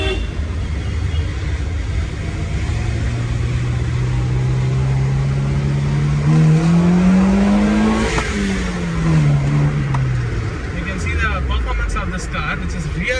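A Honda VTEC car engine accelerates while driving, its pitch sweeping up through the gears and dropping at each shift, with steady road and wind noise underneath and a voice talking briefly over it.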